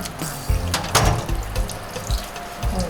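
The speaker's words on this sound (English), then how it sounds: "We are washing the fish." Tap water runs while tilapia is washed in a Nigerian kitchen, a close steady splashing rush with bursts of louder splatter as the fish is handled, no talk.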